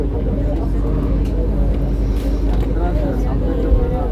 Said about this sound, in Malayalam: അമൃത എക്സ്പ്രസ് ആണെന്ന് തോന്നുന്നു കേട്ടോ.